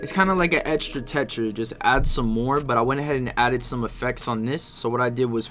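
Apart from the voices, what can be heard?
No distinct noise like a dog, phone or traffic.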